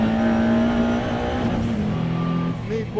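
A McLaren race car engine roars loud and close under hard acceleration, its pitch climbing steadily with faint tyre squeal, while someone talks over it.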